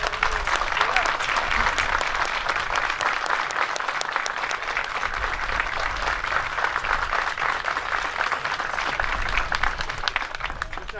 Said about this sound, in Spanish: Le damos un aplauso a los hermanos